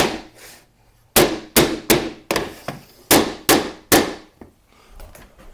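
Sharp hard bangs strike a loose plastered wall, about eight loud knocks in an uneven rhythm, each a bright clanging thud that decays quickly, close by with no talking.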